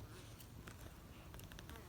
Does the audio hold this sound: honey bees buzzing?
yes